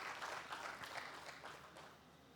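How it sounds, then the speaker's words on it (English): Brief round of audience applause at a civil engineers' workshop, faint and somewhat distant, dense clapping that holds steady for a couple of seconds. "A round of applause for him."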